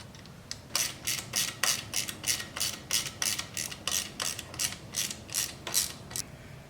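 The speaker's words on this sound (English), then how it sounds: "It's the chain rubbing in there, which it should do, the bottom of it." The rear wheel of a Honda XR250R dirt bike spins on the stand, and the drive chain rubs against the bottom guide in a rhythmic, repeating scraping ratchet-like whir at close range.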